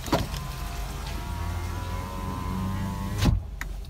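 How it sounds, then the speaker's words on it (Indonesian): A power window on a 2010 Nissan Grand Livina XV runs with a steady electric motor whine for about three seconds, then stops with a soft thunk as the glass reaches its end. "di belakangnya ini tombol untuk menaik turunkan jendela kita seperti ini"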